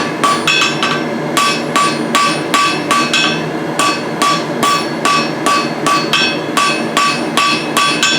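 A blacksmith's hammer strikes hot metal on an anvil to draw down stock for tongs, a loud, evenly paced series of sharp ringing blows with short gaps, no voices.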